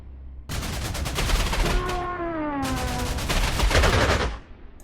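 Rapid anti-aircraft fire from a 1943 World War II strategy game rattles in two long, dense bursts of loud rhythmic shots, with a droning plane tone between them.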